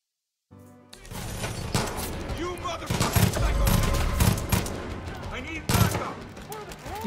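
Dense bursts of gunfire from the Far Cry 5 video game, rapid automatic shots and crashes layered over game sounds, with a voice talking over the action.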